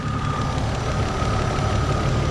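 A daily-driven car engine, uncleaned and with a small leak, runs under the open bonnet, giving a steady, close idle hum with an even mechanical churn and no voices.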